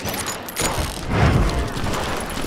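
Gunfire in Call of Juarez Gunslinger, a rough rumbling volley of overlapping shots with a heavier boom near the middle, loud and cluttered.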